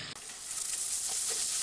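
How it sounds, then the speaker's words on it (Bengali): Chicken frying in hot oil left from frying onions, a loud continuous close sizzle that starts abruptly and holds steady, with no voices. "আমি এই যে বেরেস্তা ভাজার তেলে এই মাংসটা ভেজে নেব।"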